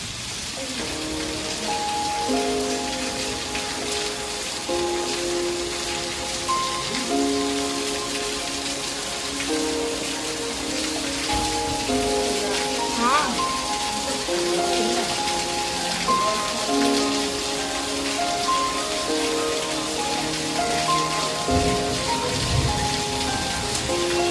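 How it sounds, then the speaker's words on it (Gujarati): Heavy evening rain in Junagadh pours steadily on surfaces with constant hiss and pattering drops, while faint tonal sounds drift underneath; no clear thunder stands out. "ભડાકા ભડાકા સાથે વરસાદ આવી બધું"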